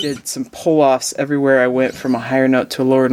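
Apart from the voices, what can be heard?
None of the usual background noises is heard.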